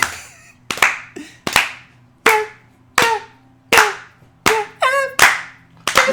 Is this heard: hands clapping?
yes